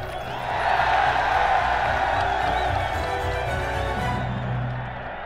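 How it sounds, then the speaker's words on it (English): A large crowd cheering the return of King Charles II, a loud sustained swell of shouts and whoops with scattered clapping that fades slightly toward the end. "Now they were cheering the return of the Stuarts."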